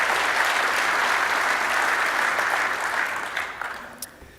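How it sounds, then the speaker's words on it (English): Loud, dense audience applause at a firefighters' expo opening ceremony, a large crowd clapping steadily before tapering off toward the end. "Please give yourself a round of applause for what you do for our country."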